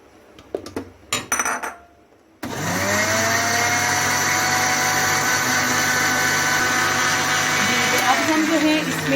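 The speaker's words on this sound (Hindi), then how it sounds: "अब हम जर्दियाँ डालकर 1 मिनट इनको भी ब्लेंड करेंगे" Electric blender whirring steadily as egg yolks are added to whipped egg whites for an oven-free marble cake, a loud continuous motor drone starting abruptly after a few brief clatters and knocks.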